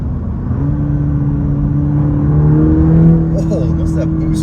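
A 2023 Cadillac CT4-V engine in sport mode hums steadily from inside the cabin as the car pulls and climbs slightly in pitch, with a person talking over it throughout.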